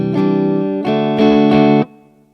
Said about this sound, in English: down strums for the first part, they're just crotchets